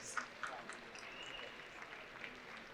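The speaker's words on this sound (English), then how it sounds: "I think you need a round of applause for 20" Scattered clapping from an audience at a corporate awards luncheon, quiet and somewhat distant, with a few sharper claps standing out from a soft, steady patter and murmur of the room.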